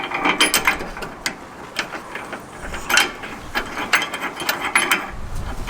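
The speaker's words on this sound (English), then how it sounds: "tightened up all the nuts that were needing to be tightened up" A ratchet tightening nuts on a mid-height truck bed rack in a garage, with quick repeated clicking bursts that come in uneven runs, close and fairly loud, and no voices.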